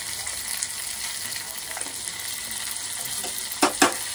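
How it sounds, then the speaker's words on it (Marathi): Chilli, coriander and asafoetida sizzle in hot oil in a pan as a tempering, a steady close frying hiss throughout, with a couple of brief clinks near the end. "आणि ही आहे तडक्याची मिरची। थोडीशी कोथिंबीर पण टाकते, हिंग टाकते"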